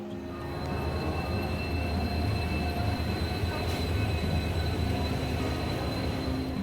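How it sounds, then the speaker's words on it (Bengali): Howrah–SMVT Bengaluru Duronto Express standing at platform 21 of a railway station, a continuous low engine drone with hum and distant station clatter, moderately loud and steady. "আর এদিকে 21 নম্বর প্ল্যাটফর্মে আমাদের ট্রেনও দিয়ে দিয়েছে"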